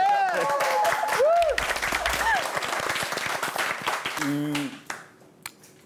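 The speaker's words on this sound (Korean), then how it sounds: "박수 치고 시작하겠습니다." A lecture audience claps loudly at the start of a talk, with whoops and excited voices rising over the applause before it thins out and fades to a few scattered claps.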